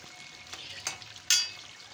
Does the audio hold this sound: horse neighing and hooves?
no